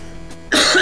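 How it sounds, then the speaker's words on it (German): A single sharp cough bursts out close to the microphone after a moment of near-quiet, with no talking around it. "ich musste gerade husten"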